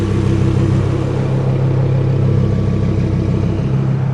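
A Lamborghini with visible turbos idles in a steady, loud, close-up rumble, holding an even low drone with no breaks throughout.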